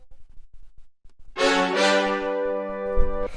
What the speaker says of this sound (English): And for the sound with this one, it's just this brass ensemble.